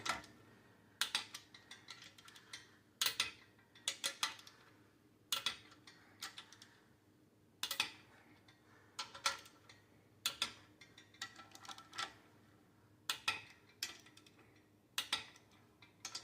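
Torque wrench clicking and ratcheting on the bolts of a Honda D16A6 engine, sharp close mechanical clicks in short repeated bursts separated by quiet gaps, with no talk.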